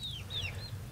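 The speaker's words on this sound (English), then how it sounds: "The chicks are freaking out inside." Baby chicks and adult hens making clucking and high peeping calls together, a steady run of chirps over a low, continuous background hum.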